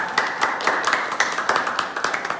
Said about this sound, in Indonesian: Beri tepuk tangan untuk Faza.